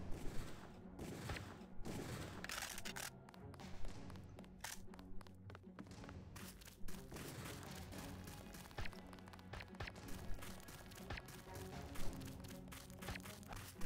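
Gunfire in the video game Deus Ex, bursts of shots and thuds layered over dense game sound and music, loud and busy throughout.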